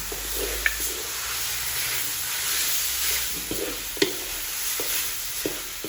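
Curry paste for spicy stir-fried pork leg fries in a hot pan, a steady sizzle with the occasional scrape and tap of a spatula stirring it around.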